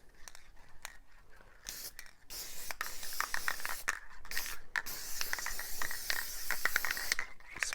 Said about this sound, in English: I need to get some clear acrylic and spray it.